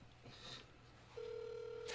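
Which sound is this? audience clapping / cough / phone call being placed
phone call being placed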